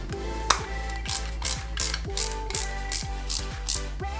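A screwdriver ratchets rhythmically as screws are driven into the chassis of a 1/8-scale Mercedes-Benz 300 SL model car kit, steady close clicking at about two to three per second.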